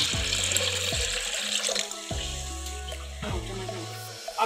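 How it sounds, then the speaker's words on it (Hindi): Water pours into a jug in a home kitchen while a kadhi pakora dish is being made, a loud continuous gurgling stream whose pitch climbs in repeated steps as the jug fills. "अब जग में पानी डालती हूँ पहले मैं।"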